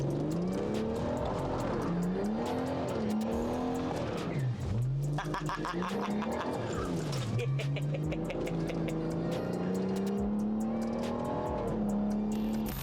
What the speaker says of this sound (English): Quick donut, mark the occasion.